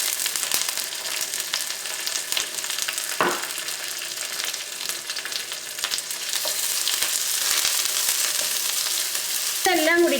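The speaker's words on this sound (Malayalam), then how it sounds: "ഇതെല്ലാം കൂടിയിട്ടൊന്ന് വഴറ്റിയെടുക്കണം." Onion, garlic, ginger, curry leaves and green chili sauté in a pan for a squid roast, a steady close sizzle with occasional stirring scrapes and clinks and no talking.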